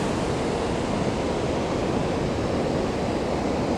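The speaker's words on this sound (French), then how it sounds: "Vous entendez sans doute le bruit de la cascade avec l'écluse." Steady rushing water from a cascade beside a canal lock, a dense continuous roar with no breaks, close and fairly loud and heard alone without voices.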